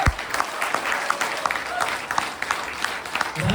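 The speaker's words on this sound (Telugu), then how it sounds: "గ్రేట్ రౌండ్ ఆఫ్ అప్లాజ్ ఇవ్వండి" An audience claps in a dense, steady round of applause, loud and close, holding evenly throughout with scattered sharper claps.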